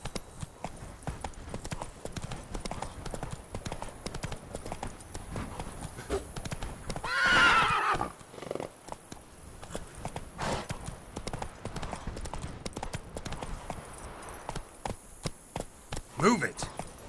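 Horse hooves clip-clop in a steady galloping rhythm in The Witcher 3 video game, close and continuous, with a brief whinny partway through and faint background effects.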